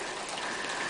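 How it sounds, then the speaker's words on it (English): Steady rain falls on a rainy afternoon as a dense, even hiss of drops on surfaces, close and continuous with no voices. "it's turned into a really rainy day, rainy afternoon."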